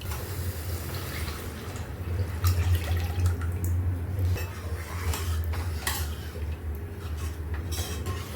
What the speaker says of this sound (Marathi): पाणी टाकलेले कुळथाचं पीठ होतं ते टाकूया याच्यामध्ये